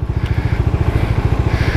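A Bajaj Dominar 400 single-cylinder motorcycle engine idles close by, a loud, steady low thumping pulse with regular rapid beats and a faint mechanical clatter, no voices present.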